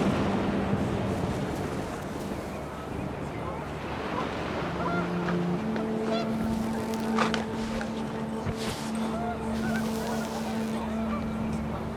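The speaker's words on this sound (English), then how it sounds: "The wind picked up, and panicked geese appeared and quickly went." Panicked geese honk amid wind and surf-like ambience in the video game What Remains of Edith Finch, their calls scattered and moderately distant over a steady windy roar.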